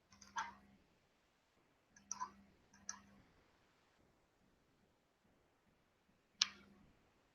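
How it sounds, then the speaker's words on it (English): Computer mouse clicks during group work at a computer: a handful of faint, sharp, isolated clicks spaced irregularly in a quiet room, no talk. "Let me click it."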